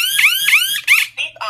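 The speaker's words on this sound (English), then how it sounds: "Defense area alarm." A Vinker T-01A wireless home alarm panel sounds loud and close, repeating a rising electronic siren-like chirp three times before shorter broken tones.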